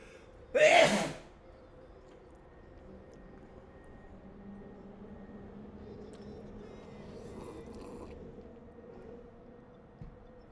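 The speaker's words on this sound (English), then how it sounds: "I'm gonna sneeze." A single loud sneeze bursts out close by near the start, followed by quiet room tone with faint background rumble.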